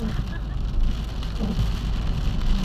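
Steady heavy rain pours down outdoors, a dense even hiss with faint background rumble throughout and no voices.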